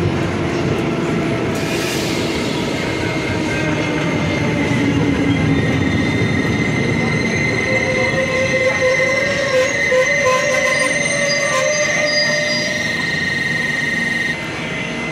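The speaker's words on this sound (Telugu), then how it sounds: "ఈ ట్రైన్ రావటం, ఈ ట్రైన్ సిగ్నల్ ఇవ్వటం, ఈ ట్రైన్ వెళ్ళిపోవటం అన్నీ జరిగిపోతున్నాయి." The CSMT–Mangalore Express runs past on the rails in a loud, steady rumble with clattering wheels and faint squealing, continuous for the whole stretch with no talking.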